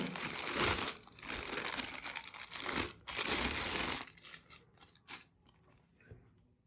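Thin plastic wrapping crinkles and crackles loudly and up close as a pair of Tribit XFree Tune wireless headphones is unpacked, in dense bursts that break off with short pauses and trail away into scattered rustles.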